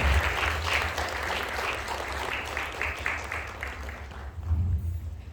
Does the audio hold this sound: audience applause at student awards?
yes